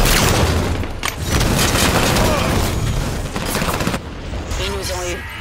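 Dense, continuous shotgun and weapon fire from Halo 5 forms a loud, booming, chaotic battle mix, with a voice briefly heard near the end.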